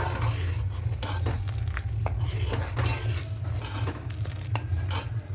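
Powdered milk being stirred into boiled milk in a pot, a spoon clinking and scraping against the metal in steady strokes over a constant low burner hum, with no talking.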